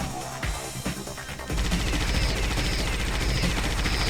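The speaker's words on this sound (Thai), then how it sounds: "ใช้ปืนกลก่อนดีกว่า" Continuous rapid machine gun fire in the video game Alien Shooter, loud and dense, with sustained rattling bursts that intensify partway through amid game action noise.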